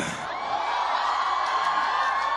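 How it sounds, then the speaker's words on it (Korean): Crowd cheering and whooping at a live music show, a dense, loud, sustained roar of voices that holds steady throughout. "박수 한번 드릴게요"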